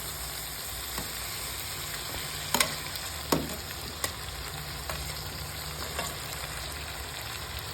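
Potato and pumpkin fry in rendered duck fat in a pan, a steady soft sizzle with occasional faint clicks and stirring knocks, alone and without talk.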